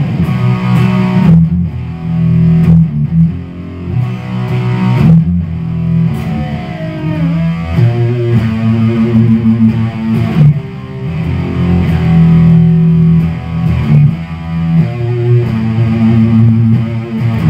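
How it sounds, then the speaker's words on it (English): Heavy distorted electric guitar riffs played through a Carvin MTS tube amp, loud and saturated, with chugging palm-muted rhythms and sustained doom-metal chords in a continuous, close performance. "We've been listening to distortion, distortion, distortion."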